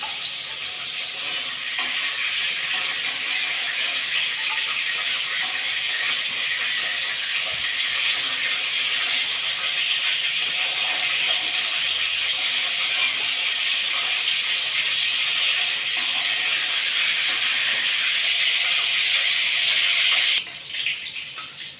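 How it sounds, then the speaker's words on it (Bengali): Hilsa fish fry in hot oil, a steady, loud sizzle that hisses on without a break for about twenty seconds before dropping off sharply near the end. "মাছগুলো ভেজে নেব।"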